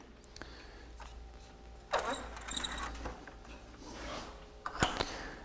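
A Legacy ornamental mill carriage is cranked back to its starting point, giving irregular mechanical clicks, ratcheting and rattling bursts close by, with quiet gaps between the louder clusters.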